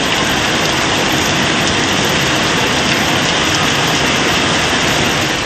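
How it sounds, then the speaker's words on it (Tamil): Heavy rain pours down steadily in Arani, Tiruvannamalai district, Tamil Nadu, a dense, loud, continuous hiss of water with no voices. "ஆரணி மற்றும் சுற்றுவட்டார பகுதிகளில் பெய்த கனமழையால்"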